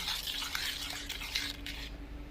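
Paste being mixed in a bowl, heard as close, repeated soft scraping and stirring strokes with faint clinks of a utensil against the bowl, steady for about two seconds before stopping.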